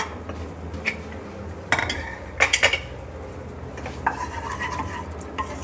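A cooled pressure cooker holding paneer masala with softened onions and tomatoes is opened: metallic clanks of the lid and utensils, with a few sharp clinks and scraping, close by and without talk.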